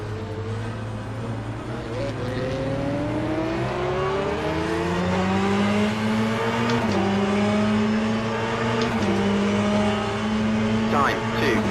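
Race car engine in the Le Mans Ultimate racing game holds a continuous droning whine, pitch rising steadily through the gears with brief dips under braking, loud and unbroken for the whole stretch.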